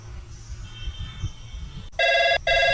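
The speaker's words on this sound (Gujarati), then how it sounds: "રિંગ જાય છે હો" A telephone rings in two short electronic bursts near the end, following a stretch of quiet room murmur.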